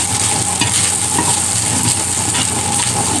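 Pork sautéing in a frying pan with little oil, a steady loud sizzle with scraping stir strokes throughout, no talking.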